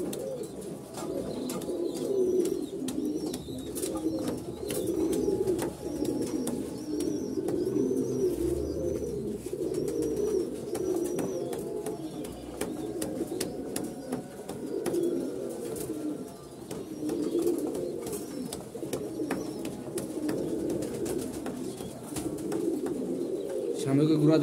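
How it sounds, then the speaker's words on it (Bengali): Fancy pigeons at a pigeon farm coo steadily in deep, rolling calls, many birds overlapping in a continuous close chorus while they feed, with soft chirps and faint rustling mixed in. "দেখবেন কবুতর কি পরিমাণে খাই এগুলো"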